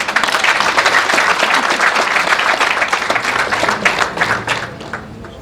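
A family at a wedding ceremony breaks into loud, dense applause, many hands clapping together close by, holding steady before thinning out toward the end.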